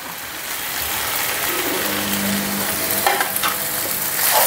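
Chicken pieces with fresh coriander frying in a pan, giving a steady close sizzle throughout with occasional stirring scrapes and a brief low tone; no one speaks.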